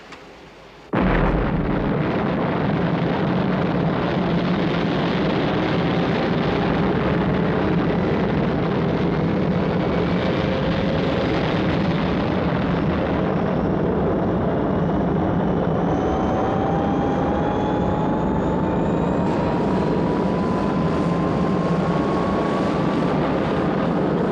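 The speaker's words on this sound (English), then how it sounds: "Stand by for blastoff." Rocket blastoff in a Thunderbirds episode: a sudden loud ignition bursts into a sustained roaring rumble with rising whine tones that continues steadily for over twenty seconds.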